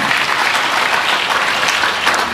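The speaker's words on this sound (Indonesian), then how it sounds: "Tepuk tangan dong buat Tuhan." A church congregation claps steadily, a dense, close wash of applause that holds even throughout without voices.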